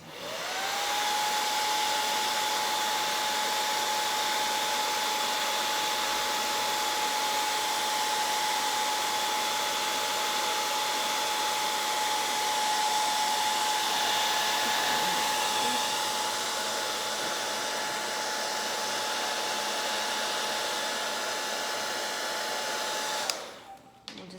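A hot air gun blows steadily on flexible wood moulding to soften it, a loud, constant whooshing drone with a fixed whine that holds for over twenty seconds before cutting off abruptly at the end.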